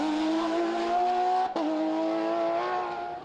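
A Porsche rally car at the 2022 Rallye de Wallonie drives past with a loud, steady engine drone, broken by a brief dip halfway through as if shifting gear, then continuing strong.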